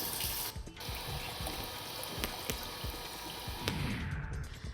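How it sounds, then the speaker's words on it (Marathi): Water released from the Vadas dam in Junnar's Kukdi project rushes along the Meena riverbed in a steady, broadband roar with faint splashing, continuous and moderately loud, with no talk over it. "या जलप्रवाहामुळे नदीपात्र खळखळून वाहत आहे"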